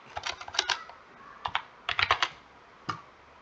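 Computer keyboard typing in short uneven bursts of close, crisp key clicks, with brief pauses between runs of keystrokes and no talking.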